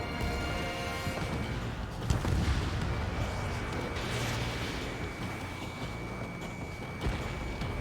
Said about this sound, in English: Missile connected. Bomber hit by a missile.